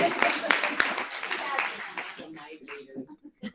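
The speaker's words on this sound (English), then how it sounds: "We have a round of applause for Tommy." A room of people at a council meeting gives a short burst of clapping that thins out into scattered claps, with voices mixed in.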